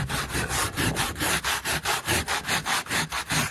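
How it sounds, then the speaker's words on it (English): Sandpaper scrubs old adhesive off a surface by hand in quick, even back-and-forth strokes, about four per second. The rasping is close and steady with no talking. "I'm just trying to get the surface smoothed down a little bit, get as much of this old adhesive material off"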